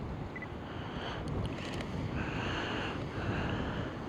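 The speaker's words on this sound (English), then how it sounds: "It is windy here." Steady wind on the south coast gusting and buffeting against the microphone, a continuous rushing roar with a few faint higher clicks, no voices.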